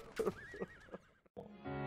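A horse in the video game Battlefield 1 whinnies loudly in a rising, wavering call, briefly cut off, followed by a burst of game-like background noise.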